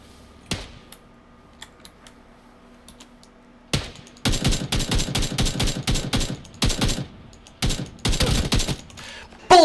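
Rapid bursts of automatic gunfire in the PUBG battle royale video game, several loud clusters of shots crackling one after another in the second half, after a quieter stretch with a few isolated pops.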